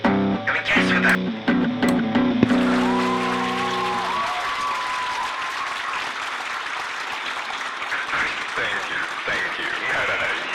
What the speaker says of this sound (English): Can we hear the clapping?